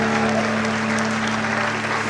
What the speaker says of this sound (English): So a round of applause for Sameer Date.